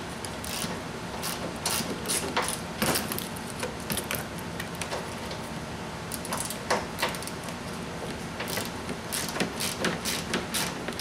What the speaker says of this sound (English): we'll break these three loose. 14 millimeter socket and ratchet